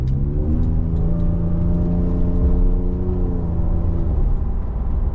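A Ford truck with a 3.5 EcoBoost engine, an upgraded intercooler and 37-inch tires on 24x14 wheels drives under load. The engine drones steadily and its pitch rises through a gear before it drops, heard close from inside the cab.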